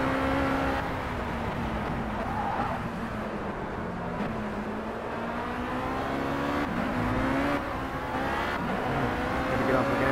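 A race car engine roars steadily and close during a 50 mile race at Oulton Park, its pitch shifting slightly as the throttle eases and gears change, with no break in the drone.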